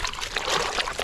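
A foam pond filter squeezed out by hand in a bucket of pond water, giving a short wet burst of splashing and dribbling water, close and fairly loud, with no talking.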